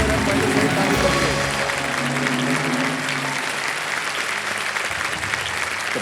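A studio audience on the KBC quiz show claps loudly in sustained, dense applause that holds steady for several seconds before easing slightly, with no talk over it.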